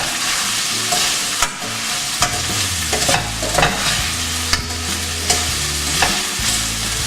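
Brussels sprouts browning in a frying pan give a loud steady sizzle, with repeated tossing and stirring scrapes and clatter scattered through it, close up and without voices.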